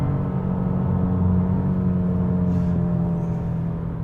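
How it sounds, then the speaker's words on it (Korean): A 2023 Genesis G70 with a 2.5 turbo engine cruising on a highway produces a steady low engine drone with tonal hum and road rumble heard from inside the cabin, with a faint brief click partway through and no talking. "자 지금 이제 고속도로 주행 보조 키고 달리고 있고요"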